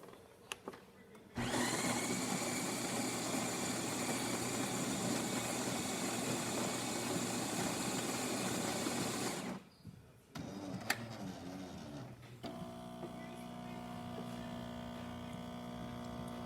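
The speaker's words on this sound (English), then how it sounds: "So let's pull a shot and see how it runs." A Jura espresso machine pulls a test shot after servicing for an intermittent brew fault, starting with a loud steady pump drone that runs about eight seconds before stopping, then quieter clicks and a lower hum.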